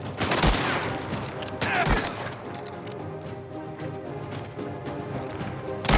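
Dense bursts of rapid gunfire and grenades in the video game Mafia: The Old Country crackle and pop in sharp volleys over a noisy background, loud and continuous, with heavier blasts standing out.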